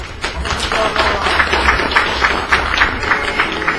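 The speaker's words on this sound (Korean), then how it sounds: "박수 한번 해주세요" Applause from an audience at a public event introducing a historic sea-route reenactment, a steady dense clatter of many hands throughout, loud and close.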